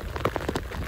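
Rain patters steadily on a surface close by, a brief wash of scattered drops with no voices.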